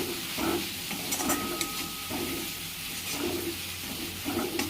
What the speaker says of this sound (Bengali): মশলাটা ভেজে নিচ্ছি